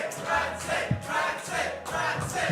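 A loud arena crowd at a Tetris tournament cheers in repeated swelling waves, a dense roar of voices rising and falling over several seconds.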